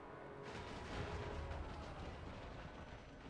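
High Elf bolt throwers loose scatter shot against a tower and units on a wall during a Total War: Warhammer II siege, a dense rumbling barrage of overlapping impacts and bursts that stays strong and continuous.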